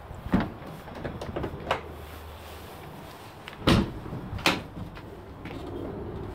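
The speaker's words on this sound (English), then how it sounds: "Now we'll have a look at the back doors." The rear doors of a Ford Transit Connect van are handled, giving several sharp clunks and latch knocks spread out over a few seconds. The sounds are close and separated by quiet gaps, and no one speaks.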